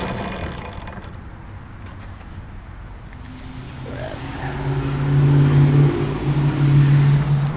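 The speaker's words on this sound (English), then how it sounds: "I'm gonna hit the throttle pedal." An electric Sequoia Electrathon racer with bicycle wheels powers up on throttle, its motor building into a steady, rising tonal whine over road and wind noise that grows louder toward the end.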